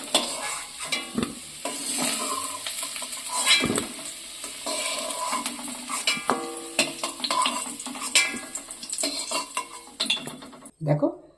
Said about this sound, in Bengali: আলুগুলো নাড়াচাড়া করতে করতে আলুগুলো কিন্তু সুন্দরভাবে লাল হয়ে ভাজা হয়ে গেছে